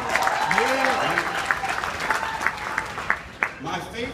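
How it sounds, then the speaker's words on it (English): Audience applause at the 2015 Steak n' Burger event for Mo of Mo's Bows, steady clapping from a crowd with voices and cheers mixed over it for a few seconds. "Let me hear some applause if you saw him on Shark Tank."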